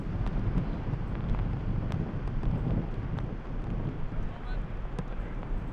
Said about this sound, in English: Norman Kane with the massive gorse bush behind him getting chucked around in the wind.